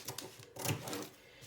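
Scissors cut along the armhole line of folded pattern paper, a short run of quick, close crisp snips and rustling paper.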